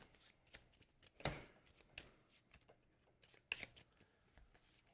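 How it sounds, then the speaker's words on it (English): Cards from the Sleeping Gods: Distant Skies board game are shuffled close up in quiet, papery riffles with a few sharper snaps at two distinct moments. "And we have to shuffle."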